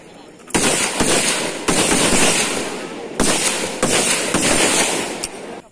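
M16 rifle shots at a military firing range during national service training, a series of loud, sharp bursts and cracks close by, several clusters with brief gaps between them.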